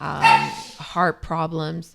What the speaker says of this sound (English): If you guys hear dogs in the background or children, this is live.